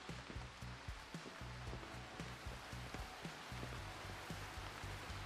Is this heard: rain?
yes